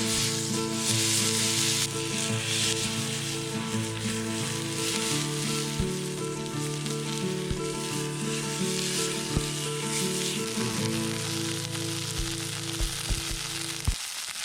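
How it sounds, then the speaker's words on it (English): Salted and peppered ground beef smash burgers sear on a very hot pan over a campfire at Balsam Lake Provincial Park, giving a loud, steady, close sizzle that runs unbroken with faint crackles and a low background hum. "You have your ground beef, cover it with your salt and pepper, and smash it on that hot pan"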